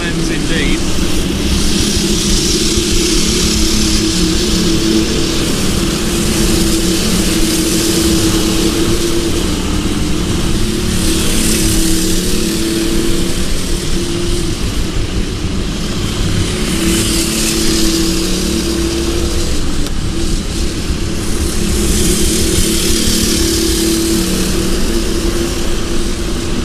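Racing kart engines at the Rye House track during a McLaren championship round make a loud, continuous buzzing drone that swells and fades slightly as karts pass, with commentary running over it.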